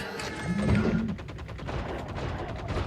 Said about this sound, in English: I don't know why I can hear gunfire.